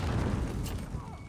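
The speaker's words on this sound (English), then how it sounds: "That's a grenade." A grenade explodes in a Modern Warfare game as a low, rumbling boom that rolls through the brief clip, fairly distant and muffled, with background game noise and faint voices.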